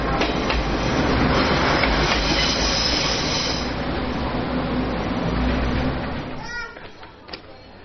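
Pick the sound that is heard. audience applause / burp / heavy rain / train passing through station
train passing through station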